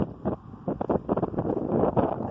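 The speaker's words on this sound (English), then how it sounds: "Quite windy here." Gusty wind buffeting a microphone in bursts on a logged hillside, low rumbling thumps rising and falling irregularly, with no clear voices.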